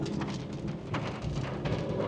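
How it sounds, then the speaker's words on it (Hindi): Steady rain falls on Samundri Road in Faisalabad, a dense, even hiss of drops hitting the road surface, moderately loud and close, with no voices. "अब तेज़ होने लगी है बारिश"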